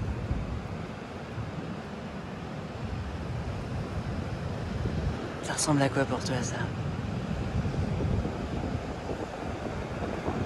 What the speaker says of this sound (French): Il y a du vent, et il y a l'océan en face.